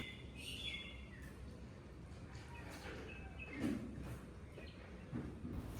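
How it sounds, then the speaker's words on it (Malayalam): Small birds chirp in the morning at a home in Valanchery, Kerala, faint scattered calls over a steady outdoor background hum, with a slightly louder burst near the middle. "ചെറിയ കിളികളുടെ ശബ്ദം,"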